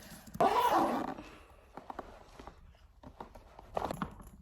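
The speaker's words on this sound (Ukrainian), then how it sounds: "Собака." A dog barks indoors in a home, a loud burst of barking near the start followed by quieter, scattered sounds and a few faint yelps, with no talking.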